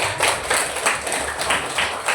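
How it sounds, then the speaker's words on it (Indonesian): Children in a classroom clap their hands together in a quick, steady rhythm, about three beats per second, close and loud throughout. "Oke, beri tepuk tangan untuk"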